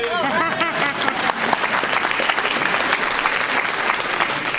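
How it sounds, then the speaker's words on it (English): Applause from an audience at a community meeting in Milwaukee's Serb Hall, a dense steady wash of clapping under a sustained whooping or cheering voice at the start, continuing evenly to the end. "so you can applaud"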